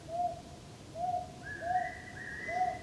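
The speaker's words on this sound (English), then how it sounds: "that one is the fairy pitter" A fairy pitta, an endangered summer migrant in Korean forest, gives a repeated two-note whistled call, four phrases spaced about a second apart, faint and clear against quiet woodland background.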